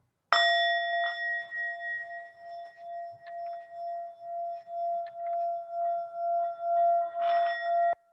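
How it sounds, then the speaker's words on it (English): A singing bowl is struck once and then rubbed around the rim, producing a clear ringing tone with bright overtones that swells and pulses rhythmically, ending with a final louder shimmer, heard close and alone. "There's also chiming, singing bowls, and I'm not the world's best at this, but I can do it."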